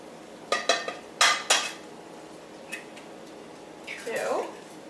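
Eggs are cracked against a bowl in a kitchen, a few sharp clacks in quick succession followed by a softer wet slide, close up and without talking.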